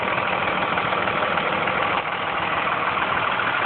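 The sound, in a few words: 2001 Dodge 4x4 turbo diesel truck engine idling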